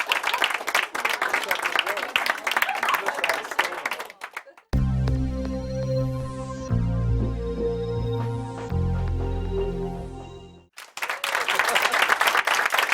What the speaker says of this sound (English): An all round of applause.